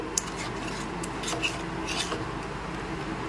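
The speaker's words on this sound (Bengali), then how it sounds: "আর কাজু গুঁড়োটা মিশিয়ে দিচ্ছি। নেড়েচেড়ে মিশিয়ে নিচ্ছি।" Cashew powder and sugar are stirred into a chhena mixture for modak, producing soft, close scraping and clinking of a utensil against a pot or bowl over a steady low background, with no talk.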